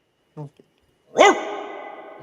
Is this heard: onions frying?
no